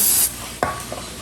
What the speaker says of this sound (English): I'm just gonna spray it with some cooking spray